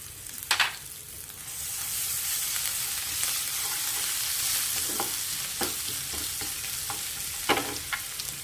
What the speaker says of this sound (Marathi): लाल मिरची घातली हिरवी मिरची घातली हिंग घातला आलं घालते